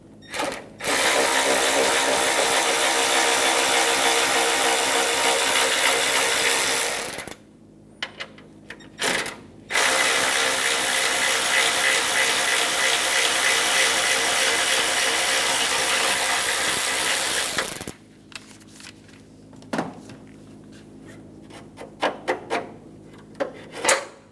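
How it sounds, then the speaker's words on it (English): A 5mm socket tool works the two rods holding the headlight assembly on a 1988-1999 GMC K1500, giving two long, loud, continuous mechanical whirring runs split by a short pause, then a few sharp clicks and rattles. "we're going to remove these two 5mm rods using a 5mm socket"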